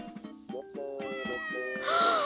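A kitten meows repeatedly in the Miitopia video game, a series of short cries in quick succession, with game music underneath and a brighter jingle at the end.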